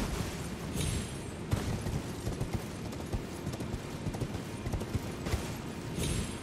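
A steed gallops in Elden Ring with continuous quick hoofbeats, close and fairly loud, layered over game ambience with a few sharper impacts and brief whooshes, no voices.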